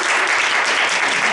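Audience applause from a crowd at a live holiday magic show, a steady dense wash of clapping filling the whole short moment without pause.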